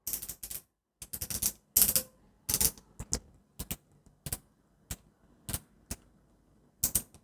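Knee and ankle joints of an Amazing Yamaguchi Revoltech Deadpool action figure click as the legs bend, giving close, crisp ratcheting bursts in uneven rapid groups separated by short silences.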